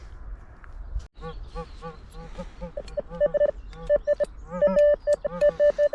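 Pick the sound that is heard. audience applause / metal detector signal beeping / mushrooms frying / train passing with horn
metal detector signal beeping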